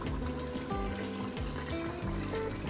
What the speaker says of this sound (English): Once we get just enough water in there, we're going to get that ham hock covered.